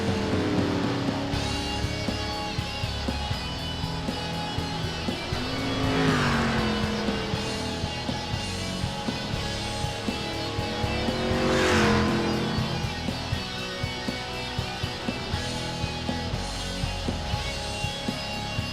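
A lone race car circles a dirt track at Cedar Lake during practice, its engine droning steadily with rising and falling pitch as it sweeps through the turns, surging louder twice, with faint tire scrub and no talk.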